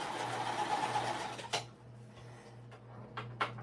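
A sewing machine runs a short test stitch, giving a quick burst of mechanical whirring, then a couple of faint ticks and clicks in an otherwise quiet room.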